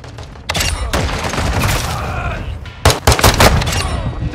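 Heavy gunfire bursts in Call of Duty: Modern Warfare II, a sustained loud volley followed by a second cluster of sharp shots, dense and close with rumbling low end.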